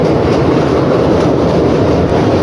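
The Fareed Express rumbles steadily across the long Sutlej river bridge near Lodhran, with heavy continuous rolling noise and faint clickety-clack of the wheels, heard close from on board with no talk.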